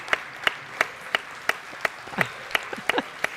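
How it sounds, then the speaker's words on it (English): Parents are applauded at a grade-school academic awards ceremony with a sparse, fairly rhythmic clapping in a room, distinct claps spaced apart and a faint voice murmuring underneath. "let's give them a round of applause for getting you through this year"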